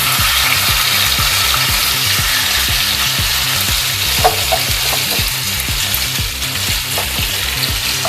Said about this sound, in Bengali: আঁচটা আমি মিডিয়াম ফ্লেমে দিলাম, দিয়ে আস্তে আস্তে আমি ফ্রাই করব।